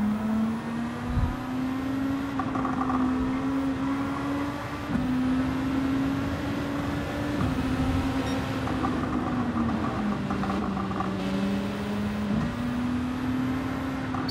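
Car engine driving in Gran Turismo, a steady loud drone that climbs in pitch through the gears with brief drops at each shift, continuous with no talking.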